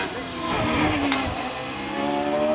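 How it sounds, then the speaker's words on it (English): A Jaguar Green Gould hillclimb race car at Shelsley Walsh, its engine howling at high revs as it climbs, a steady loud roar with rising engine pitch under commentary. "the former policeman really pushing on hard with the Jaguar Green Gould"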